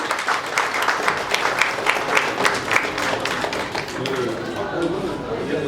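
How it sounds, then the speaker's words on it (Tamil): Audience applause at a film press meet, a dense stretch of clapping from a crowd that holds steady and thins slightly toward the end, with a voice speaking over it. "தங்களுடைய பலத்த கரகோஷங்களுக்கிடையே"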